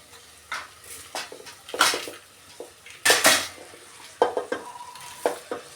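Scattered clinks and scrapes of a utensil against a pan, with a brief sizzle and rustle as washed, drained rice is tipped into hot tempering and stirred.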